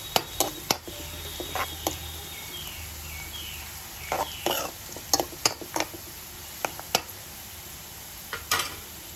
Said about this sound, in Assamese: আকৌ এবাৰ লৰাই দিব।